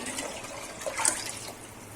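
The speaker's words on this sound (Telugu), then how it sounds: "దీంతో ఇంకొక 6 చెంబు వేస్తానండి వాటరు." Water poured from a vessel into a pot of rice for a Tamil Nadu style biryani, a short steady splashing gush that rises briefly near the middle, heard alone.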